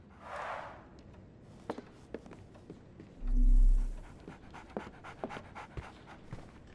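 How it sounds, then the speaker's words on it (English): A dog in a Sherlock Holmes video game pants steadily and close up, with soft intermittent clicks and footstep-like taps and a brief low rumble partway through. "So, Barnes has a dog now."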